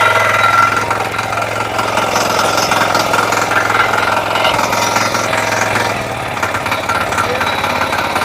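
A power tiller engine runs in first gear, a loud steady mechanical drone with knocking pulses, while a voice talks over it throughout.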